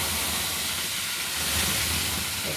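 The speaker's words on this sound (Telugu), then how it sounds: "ఎక్కువ కాగింది కదా బాగా, అందుకు సౌండ్ వచ్చింది" Tamarind pulp boiling hard in a pot, giving a loud, steady broadband hiss that holds evenly throughout with no talk over it.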